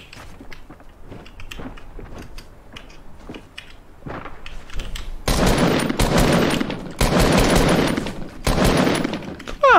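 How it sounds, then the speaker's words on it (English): Assault rifle fire in Fortnite, sporadic shots early, then loud sustained automatic bursts in the second half broken by brief pauses, close and dominant with no talking over it. "Why am I shooting AR?"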